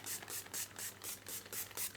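Gerard Cosmetics setting spray misted onto a face in a run of about eight quick, regular bursts, each a short airy hiss, close and fairly loud with no talking.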